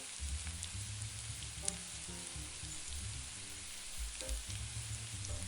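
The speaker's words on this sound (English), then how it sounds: "Now that the oil is properly heated, add your butter" Butter sizzles in hot oil in a pan, a faint, steady crackling fry with small pops and clinks, close by and without any talk.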